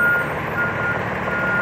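A reversing beeper on a cement truck or bin-removal truck at a multifamily construction site, sounding a steady high tone over loud, continuous engine rumble, with no talk.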